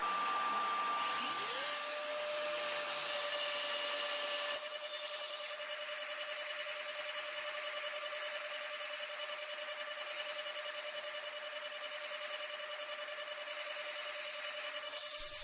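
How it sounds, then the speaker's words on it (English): A CNC machine mills a part with a steady high-pitched spindle whine that ramps up at the start and then holds constant alongside a broad hiss, fairly quiet and with no talking. "I needed to machine from both sides because the tool is too short."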